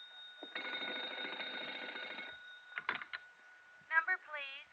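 In a radio drama, a telephone rings with a long buzzing burst, then shorter clicks and warbling tones follow, all close and clear against a quiet background.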